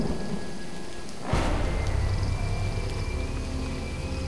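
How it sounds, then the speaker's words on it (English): Steady rain falls in the video game Jurassic Park: The Game, then a sudden rumble of thunder breaks in and lingers under the continuing downpour. "At least the rain's easing up."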